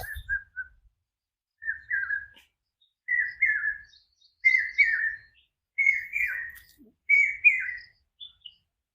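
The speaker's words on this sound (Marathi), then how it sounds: "पक्षी खूब मोटा ओरडत होता" A bird on a hillside gives a loud repeated whistling call, six clear phrases at steady intervals, with quiet between them and no voices.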